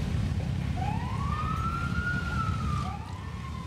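A motorcycle caravan at Pereira Bike Week 2016, riding toward Quimbaya, Quindío, fills the scene with a loud, continuous low engine rumble. A siren wail rises and sweeps above it, near and steady throughout.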